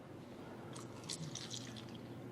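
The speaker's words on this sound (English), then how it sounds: "Watch what happens when I go to pour again" Water poured onto a tea bag gives a soft, close trickle and faint splashing over a low steady background hum, brief and quiet, without talk.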